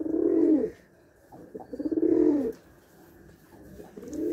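Rajshahi Giribaz pigeons coo in two close, rounded bursts with a quieter gap between them, and a third coo starts at the end. No voices are heard.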